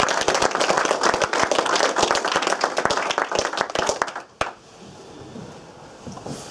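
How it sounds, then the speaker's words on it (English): An audience at a philosophy of science talk gives a burst of dense, close hand clapping that runs for about four seconds, then stops abruptly, leaving faint room noise. "will you please give Barry a big round of applause"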